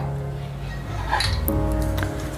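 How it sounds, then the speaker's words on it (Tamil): A metal lid lifted off a tapioca puttu steamer on a switched-off stove gives a couple of clinks and a scraping clatter of metal on metal, close by, over a low steady hum. "இப்போ நாம் மேலே இருக்கிற மூடியை கழட்டிக்கலாம்."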